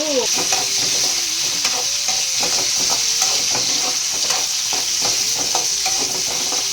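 Eggplant and fresh mint fry in a pan for a chutney with tomato, coriander and garlic, a steady loud sizzle running throughout with frequent soft scrapes and taps of stirring.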